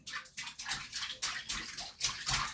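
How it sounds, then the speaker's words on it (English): Water splashes in a child's bath, a steady run of repeated close sloshing bursts about every quarter second, with no talking. "I guess you can't really hear anything but splashing"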